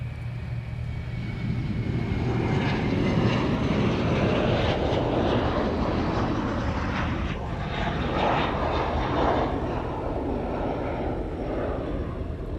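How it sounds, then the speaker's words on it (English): A Hawaiian Airlines Boeing 717 jet passes close by at Honolulu airport, its steady, loud engine roar swelling and holding broadband throughout with no pauses. "That was a Hawaiian 717."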